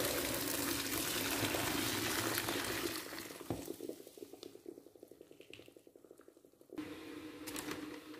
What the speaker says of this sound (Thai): ใส่น้ำร้อนเลยจ้า